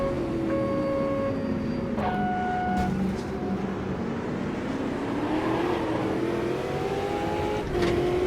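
Race car engines roar steadily through a five-lap race in the Automobilista 2 racing game, with rising and falling engine tones sustained and loud throughout, no voices.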